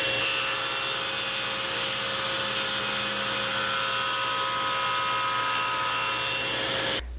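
A table saw runs a cove cut through plywood, a steady loud whine of the blade grinding wood held without a break for several seconds, then winding down at the end.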